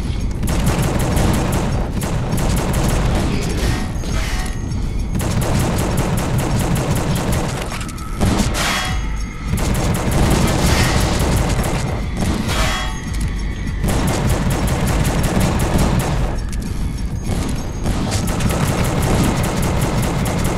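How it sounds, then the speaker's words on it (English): Sustained, loud volleys of gunfire in The Suffering video game, with dense rapid shots and clanging bursts running almost continuously and only brief lulls. "I'm still not completely sure what the strategy for avoiding the shots are."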